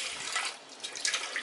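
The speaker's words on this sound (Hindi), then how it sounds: "पानी डाल के इसे 3 से 4 बार अच्छे से धो लेते हैं।" Water runs and splashes over half a cup of yellow moong dal in a pressure cooker as it is rinsed, a brief close, hissy gush with small splashy bursts and no voices.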